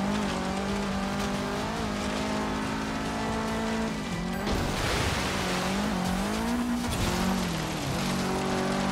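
A Subaru STI driven in Forza Horizon 3 holds a steady, loud engine note that rises and dips with gear changes and throttle, with a brief break near the middle.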